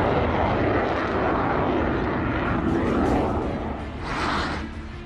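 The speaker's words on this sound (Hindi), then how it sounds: "और राफेल अब कॉम्बैट एयर पेट्रोलिंग की ड्यूटी बजा रहा है।" A Rafale fighter jet flies a combat air patrol over Ladakh, a loud broad engine roar that swells and fades over about five seconds, with no speech.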